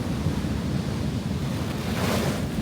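Heavy surf rolling onto a Norfolk coast beach on a rough, wavy day, a loud steady wash of breaking waves mixed with gusting wind buffeting the microphone, no voices.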